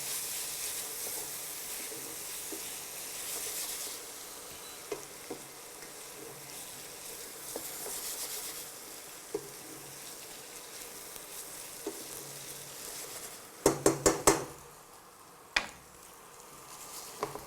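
Vegetables frying in a pan for jeera rice with cumin and salt, a steady soft sizzle that runs throughout with occasional stirring clicks and a short burst of utensil clatter near the end.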